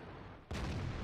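A heavy tank cannon firing a gold shell in World of Tanks, a single sudden loud boom that cuts in after quiet rumble and rolls on as a dense, thundering blast.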